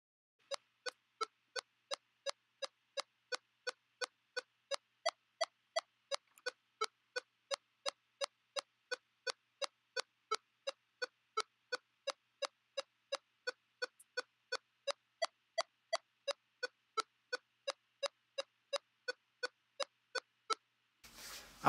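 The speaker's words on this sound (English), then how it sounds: "Here's a recording of Mary Had a Little Lamb, first with just, then with equal temperament." Mary Had a Little Lamb plays twice, first in just then in equal temperament, as a string of short, evenly spaced plucked notes, clean and isolated with no other sound.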